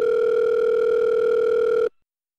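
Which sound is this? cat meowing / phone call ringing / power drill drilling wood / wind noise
phone call ringing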